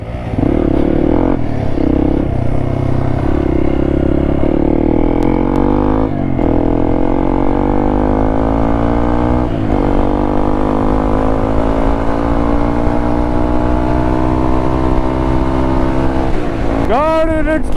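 Motorcycle with a modified exhaust, a loud, steady engine drone held close for the whole stretch, the pitch shifting slightly with small throttle changes and rising sharply at the end.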